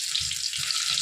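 Onion fries in hot oil with mustard seeds and cumin, giving a loud, steady hiss of sizzling with faint low thumps underneath and no voices.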